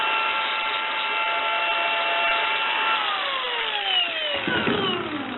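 An angle grinder cuts through the steel radial wires inside a car tyre, a loud, steady high-pitched whine that holds for several seconds, then dips and wavers in pitch as the disc bites near the end.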